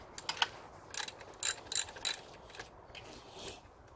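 A ratchet wrench loosens 12mm bolts on a Classic Mini's alternator mounting, giving several quick, close bursts of ratcheting clicks separated by short pauses, with no talking.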